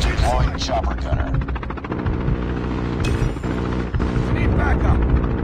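Chopper gunner helicopter fire in Call of Duty Mobile multiplayer, rapid bursts of heavy gunfire over a droning rotor and clattering mechanical noise, with in-game voices calling out over the din.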